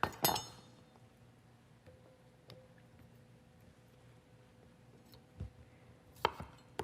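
A knife slices fresh potatoes for a chili-mixture fry dish, giving a few faint, separate chops and light clinks in a quiet kitchen, with one sharp cut near the start and a couple more toward the end.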